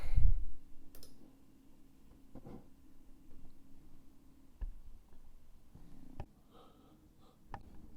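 A few faint, sparse computer mouse clicks sound in a quiet room as software settings are enabled, with scattered soft taps and no talking.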